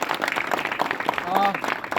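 An audience claps at a Gujarati film premiere for the actors and influencers present, with short bursts of applause running under someone speaking and a faint whistle partway through.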